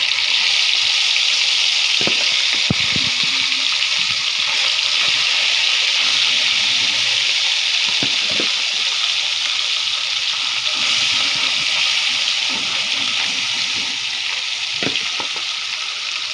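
Small pond puti fish fry in hot oil with a dense, steady sizzle and crackle, joined by occasional soft clinks and stirring bumps, continuous throughout at close range.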